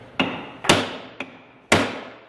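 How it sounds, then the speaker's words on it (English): Four sharp metallic hammer blows on a tight ball joint of a 2005 Ski-Doo snowmobile, close and loud, landing in an uneven rhythm with ringing decay between strikes. "and then beat on it with a hammer a sec"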